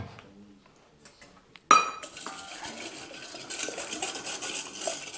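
A whisk clinks and scrapes around a bowl of jelly crystals dissolved in boiling water, starting with a sharp metallic knock and then settling into steady, brisk stirring.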